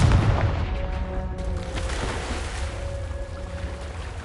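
A Confringo blasting spell goes off in the Hogwarts Legacy game: a heavy low boom opens the clip, then a rumbling fiery roar with faint tonal hums that steadily fades over about four seconds.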